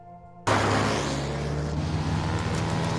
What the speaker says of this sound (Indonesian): Mobil ini dikejar oleh pesawat Nazi yang terus menembaki.